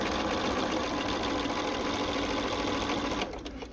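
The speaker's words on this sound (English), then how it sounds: "sew to the seam" A sewing machine stitches a quilt block seam for an Ohio Star block, running in one continuous, fast mechanical whir close by before easing off just at the end.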